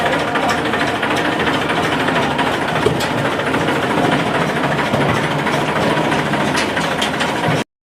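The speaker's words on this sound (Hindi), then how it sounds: "ऊपर वाली जो है ट्रैक्टर आ रहा है इधर से, अभी आएगा।" Tractor engine running steadily as it arrives hauling a load of bricks, a loud continuous mechanical drone with knocking texture that holds for most of the stretch before cutting off abruptly at the end.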